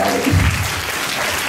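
A crowd at a Veera Shaiva Lingayat community event breaks into applause, a brief, loud burst of clapping with a low thump near the start, fading slightly across a second and a half.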